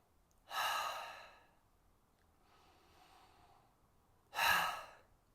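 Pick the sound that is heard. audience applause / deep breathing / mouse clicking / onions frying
deep breathing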